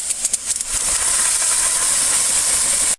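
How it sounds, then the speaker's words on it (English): A high pressure nozzle sprays water onto a Pentair Clean & Clear pool filter cartridge, starting with a few short bursts before settling into a loud, steady, hissing rush that cuts off abruptly. "You want to use a high pressure nozzle with the inside and the outside clean really good."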